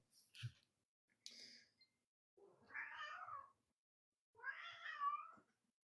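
A house cat meows indoors, two drawn-out close calls spaced a second or so apart, preceded by a couple of soft clicks and rustles, with no talk in between.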